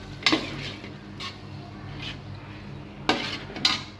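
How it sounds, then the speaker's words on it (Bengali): Soaked grains are stirred into a pot of haleem, with a few sharp metal clinks of the spoon against the pot. Between them runs a quiet scraping hum, and there is no talk. "এখন ভিজিয়ে রাখার শস্য দানাটা দিয়ে দিচ্ছি দিয়ে একটু মিক্স করে নিচ্ছি"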